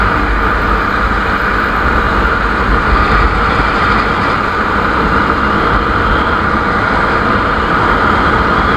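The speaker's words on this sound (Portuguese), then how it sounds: "Tem que botar a moto pra andar." Motorcycle riding on an open highway, a continuous loud engine drone mixed with wind and road rush, steady with no talk.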